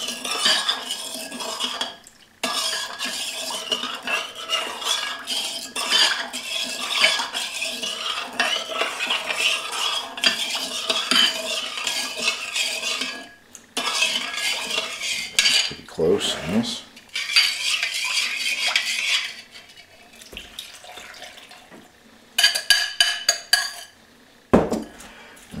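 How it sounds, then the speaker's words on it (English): A spoon stirs a cup of sugar in a bowl to dissolve it, scraping and clinking steadily against the dish for long stretches with brief pauses, close and fairly loud. "Spoon here. Just stir this until the sugar has"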